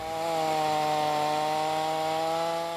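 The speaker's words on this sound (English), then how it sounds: "a man running up the tree with a chainsaw, taking the limbs off" Chainsaw working up a tree to cut off limbs, a loud sustained engine whine with a steady buzzing pitch that runs unbroken for the whole stretch.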